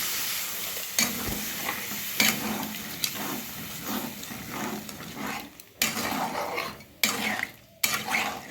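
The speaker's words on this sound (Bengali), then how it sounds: "এবার আমি জল দিয়ে দিই।" Crabs frying in a pan for crab bhuna as water is poured in, with steady sizzling, stirring and repeated sharp knocks of a utensil against the pot, close up and without talk.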